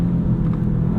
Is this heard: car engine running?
yes